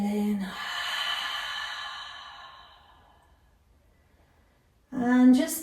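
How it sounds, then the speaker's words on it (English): One long, deep breath pushed out through the mouth during a gentle yoga flow. It is soft and airy, fading gradually into near silence before a voice starts speaking. "Exhale out through the mouth."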